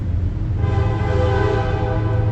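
A CSX train passes with its horn sounding, a loud, sustained multi-tone blast rising over a deep rumbling drone of the rail cars, heard without talk.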